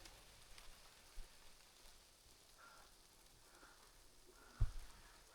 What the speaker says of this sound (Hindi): और बारिश भी हो रही है.